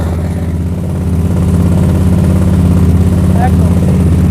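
A 2019 motorcycle with about 3,000 km on it starts and settles into a steady, loud, close idle with a rapid even pulse, while people talk nearby.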